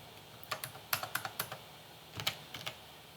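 Computer keyboard typed on while entering a username during an Ubuntu install on Windows 11, about a dozen crisp, close key clicks in two short irregular bursts over a quiet background.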